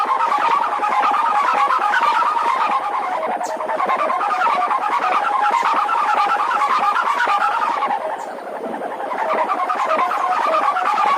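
Two Bugis pitu-pitu sendaren kite hummers, a long 110 cm bow and a short 77 cm bow with double rolls, drone together in a dense, steady buzzing hum that dips briefly and swells again, loud and continuous with no talk.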